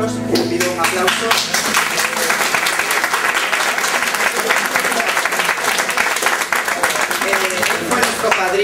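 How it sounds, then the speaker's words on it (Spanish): Sustained applause from an audience at an Asturian film festival awards ceremony, honoring a guest, dense and steady clapping throughout with some crowd noise underneath. "Les pido un aplauso."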